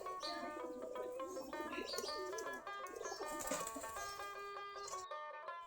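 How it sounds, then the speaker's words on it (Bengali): A flock of local desi Giribaj (Gulla) pigeons feeding in the afternoon coos softly in overlapping throaty calls, with light chirps and brief wing flutters, at fairly low volume. "আমাদের দেশি গিরিবাজ কবুতর, কেউ বললে গুল্লা কবুতর"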